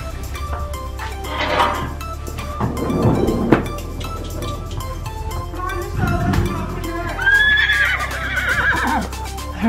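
Horses at a stable whinny loudly several times in close succession, shrill calls rising over a steady low rumble, with light hoof clatter between them.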